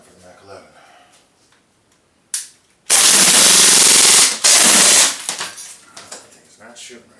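A Mac 11 gas airsoft gun fires a loud, rapid two-second burst at a child's toys, including Mr. Potato Head. A single sharp click comes just before, the burst breaks briefly midway, and quieter handling noises follow.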